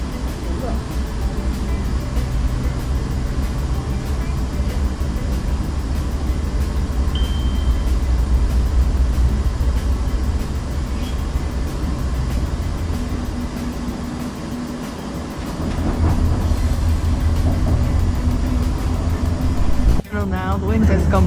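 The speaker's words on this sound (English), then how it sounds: "How fast does the train go?" Continuous low rumble and rattle of a moving train interior, steady and droning throughout, with a brief clunk near the end.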